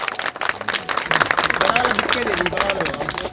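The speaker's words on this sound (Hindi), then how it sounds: "जोरदार तालियां सर के लिए" An audience at a network marketing event in Prayagraj gives lively applause for an actor. The clapping is moderately loud and runs under an announcer's continuous speaking voice.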